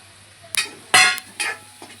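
Eggs dropped into a hot pan for a breakfast of chapati pieces: a few sharp bursts of crackling sizzle and utensil clatter, close, with quiet gaps between them.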